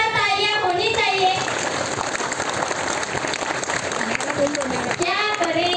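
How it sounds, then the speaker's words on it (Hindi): An audience claps for an event's organising team: sustained, dense applause from a crowd, with a voice speaking briefly before and after the clapping. "एक बार आयोजक टीम के लिए जोरदार तालियां होनी चाहिए"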